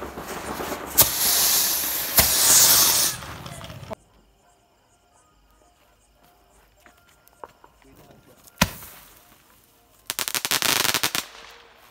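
Festival firecrackers and rockets are lit and go off: a loud sustained fizzing hiss, a sharp single bang, then a rapid burst of crackling reports, with voices nearby.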